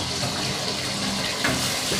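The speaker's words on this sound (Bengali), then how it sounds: "জল পড়ে যাচ্ছে।" Water running from a tap in a steady, continuous splashing rush, close and fairly loud, with no talking over it.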